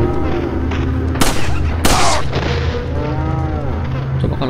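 Gunfire in the video game Resident Evil 4, two sharp loud shots about half a second apart over a steady hum of game music and ambience.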